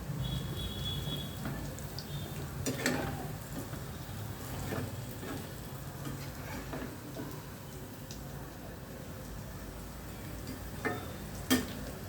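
Pakodas fry in hot oil, with a steady sizzle running throughout. Occasional light clicks and scrapes come from stirring in the pan.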